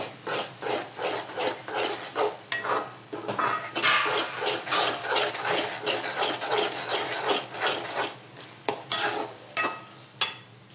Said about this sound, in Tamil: முட்டை சேர்த்ததுக்கப்புறம் நல்லா கிளறிட்டே இருக்கணும்.